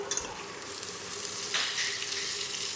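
Eggplant and potato sauté in a pan, giving a soft, steady sizzle with occasional brief clinks and scrapes of stirring, close but fairly quiet.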